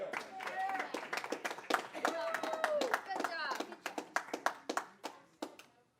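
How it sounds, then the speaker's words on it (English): An audience claps at a school board meeting, a loose patter of hands under talking voices, thinning into scattered individual claps toward the end. "I said no clapping, and I meant no clapping."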